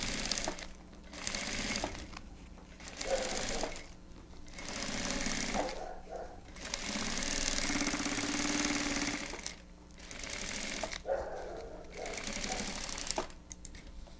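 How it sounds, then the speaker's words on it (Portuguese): A Jack sewing machine stitches bias binding onto fabric for an insulated lunch bag, running in several loud, close, buzzing bursts of a few seconds each, separated by short pauses. "Aí eu venho aqui na jack. Ó, já costuro com o viés."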